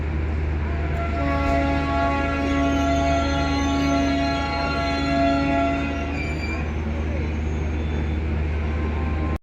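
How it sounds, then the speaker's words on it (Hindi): A Prayagraj–Delhi special express train arriving at Tundla Junction, its loud sustained horn blaring for several seconds over the continuous rumble of the rolling train. "ये ट्रेन अपनी पहुंच चुकी है टुंडला जंक्शन पे।"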